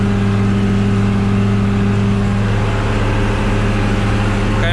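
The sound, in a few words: tractor with mulcher entering tall grass and thistles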